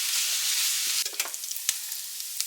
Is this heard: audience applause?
no